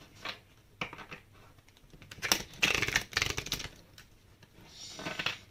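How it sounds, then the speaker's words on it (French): Tarot cards slapped and shuffled onto a table in quick bursts of crisp taps and slides, close and fairly loud, with no talking. "je vais mettre toutes les cartes de tous les trimestres."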